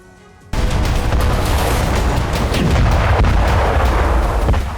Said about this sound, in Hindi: धमाकों का यह दौर जल्द थमेगा